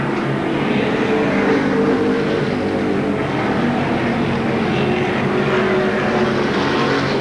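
Pro Stock race cars roar around Seekonk Speedway in 1992, a dense, steady engine drone from a bunched field that holds level throughout with no break and no voices.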